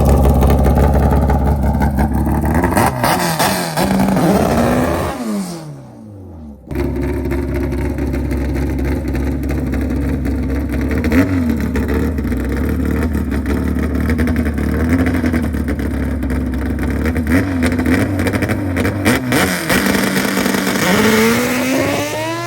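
Drag racing cars with B-Series engines and AWD launch and accelerate hard, loud rising engine roars sweeping upward, a brief drop to near quiet, then sustained revving and another climbing run close by.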